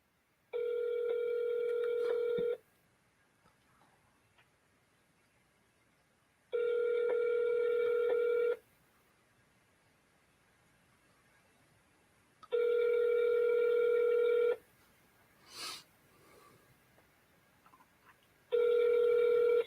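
Outgoing telephone call ringback tone, three long steady rings about two seconds each with silent gaps, then the start of a fourth, loud and clear with no talk.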